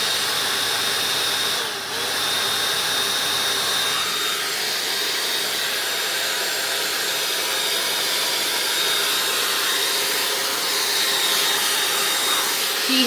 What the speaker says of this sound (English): now I would rough dry my hair. So let's give it a whirl.